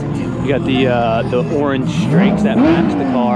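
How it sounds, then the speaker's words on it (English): Lamborghini Aventador SVJ engines rev and rumble in the background at a Cars and Coffee meet, a steady rising and falling drone heard mostly under close conversation. "you can hear the SVJs in the background."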